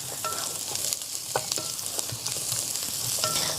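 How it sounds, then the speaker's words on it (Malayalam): Onions sizzle and fry in a pan for a kappa dish while a utensil stirs them, giving scraping clicks over a steady crackle, close up with no talking. "അത് നമുക്ക് സബോള ഒന്ന് വഴറ്റി കൊടുക്കാം."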